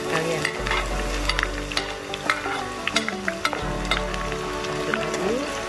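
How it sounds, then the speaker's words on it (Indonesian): Shallots and garlic drop into hot oil and fry, a close, loud, steady sizzle with repeated spatula scrapes and stirring clicks, no voices. "Minyaknya panas, kita masukin bawang merah"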